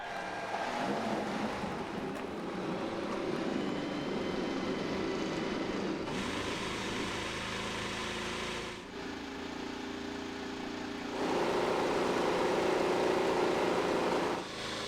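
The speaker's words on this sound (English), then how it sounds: "Engines have come to life, drivers strapped in, and Paul, they're in their office now." IndyCar race car engines fire up and idle on the grid at the 2016 Toyota Grand Prix of Long Beach. A loud, dense mechanical roar swells and shifts in intensity, with several distinct surges from the massed cars.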